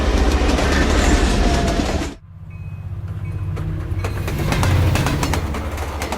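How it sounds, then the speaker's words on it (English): A passenger train rolls on its tracks through the Canadian Rockies with a loud, continuous rumble. The sound cuts abruptly to a quieter interior drone, then builds again with steady clickety-clack and no voices. "the train rolls east through the Canadian Rockies"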